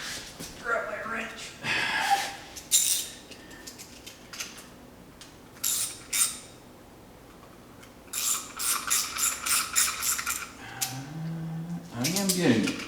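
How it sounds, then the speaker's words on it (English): A wrench ratchets on a Farmall Super H tractor during restoration. Clicking ratchet strokes come in short bursts, close up, between stretches of a person talking. "Grab my wrench."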